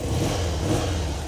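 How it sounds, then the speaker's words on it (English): Harley-Davidson Low Rider with a huge 1450cc twin-cylinder engine, close and loud, a steady deep throbbing rumble that swells slightly as it revs, no voices over it. "1450cc engine, and those two pistons are moving up and down in what appears to be slow motion, but it sounds the biz"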